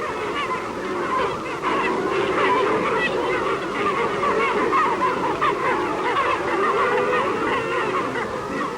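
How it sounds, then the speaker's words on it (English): Young pelicans huddled together in a noisy flock, a continuous chorus of overlapping honking and squawking calls, loud and close, with no pause throughout. "the little pelicans huddle together in noisy, dauntless flocks"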